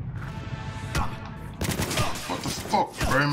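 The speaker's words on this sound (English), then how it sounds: "Why are you shooting me?" Bursts of enemy gunfire in Cyberpunk 2077, loud rapid shots and machine-gun-like volleys with a sharp crack and busy game effects, close and layered.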